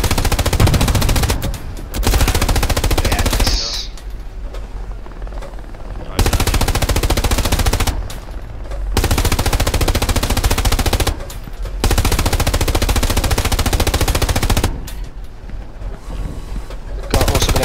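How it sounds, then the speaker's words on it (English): Machine gun fire in the World War II shooter Hell Let Loose, friendly MG raking a position: loud sustained automatic bursts separated by short pauses, with faint distant battlefield noise in the gaps. "Got an MG like firing on this position, like friendly MG firing at this like break."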